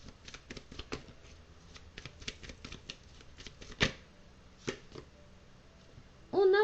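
Tarot cards shuffled by hand, a close sequence of quick papery flicks and riffles with one sharper slap, quiet overall, followed by a brief burst of voice at the very end.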